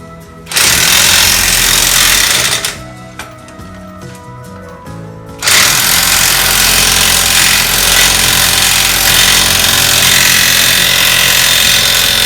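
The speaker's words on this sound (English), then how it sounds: "I'm getting ready to put the impact on it and pull that last stud on through" An impact wrench hammers a wheel stud through the right rear hub of a Jeep WJ, loud rapid rattling bursts with a short pause mid-run, then a long sustained hammering stretch.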